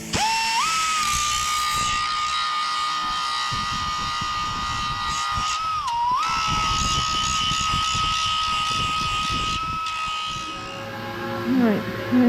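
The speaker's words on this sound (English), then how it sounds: "so I've got a belt sander." A belt sander grinds rust off the edge of a Rover P6 wing with a steady, close, high-pitched whine. It holds nearly constant for about twelve seconds, dips briefly midway, and trails off at the end.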